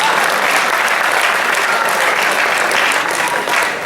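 Loud, dense applause fills a hall at a Hindi comedy poetry show at Kala Mandir in Bhilai, a sustained even roar of many hands that continues for several seconds.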